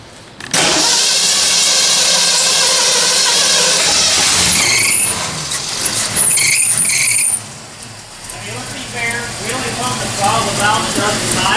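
A 1979 AMC AMX with a 304 V8 on a two-barrel carburetor cranks and fires up on a dyno, then settles into a steady, loud idle with a brief squeal. Voices talk over the running engine.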